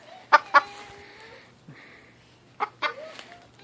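A chicken clucks in a few short, sharp bursts, two close together then two more after a pause, fairly near and clear over a quiet background.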